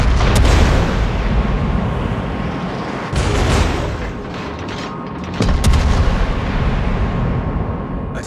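Heavy artillery fire in a combat video game, loud booming blasts with sharp onsets at intervals and rumbling roar between them, dense and continuous.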